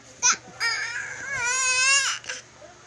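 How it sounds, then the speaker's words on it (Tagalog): A baby cries loudly and close by, a short yelp followed by a sustained wavering wail that breaks off and resumes briefly, set against a faint low hum. "Maingay yung baby ko."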